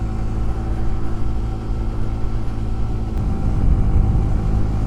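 A motorcycle cruising on the road near 80 on a homeward holiday ride from Cilacap to Bandung, with a steady loud engine drone and low rumbling wind noise throughout and no talk.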